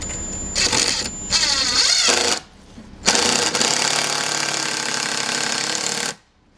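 Screws driven into a wooden farmhouse computer desk with a power driver, loud buzzing ratchet bursts that start and stop several times, the longest run of about three seconds ending abruptly, recorded close up.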